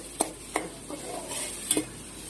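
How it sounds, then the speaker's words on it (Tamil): Tomatoes are stirred and sautéed in a pan for a bitter gourd tamarind curry: three or four quick spatula scrapes against the pan over a soft, steady sizzle. "நல்லா வதக்கி எடுத்துக்கலாம். நல்லா தக்காளி வதங்கணும்."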